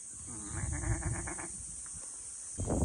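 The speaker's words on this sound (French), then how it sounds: "Il y a des biquettes." Goats on a countryside hiking trail in Japan bleat in a quick run of repeated calls, fairly close, over steady outdoor background noise, followed by a fainter bleat near the end.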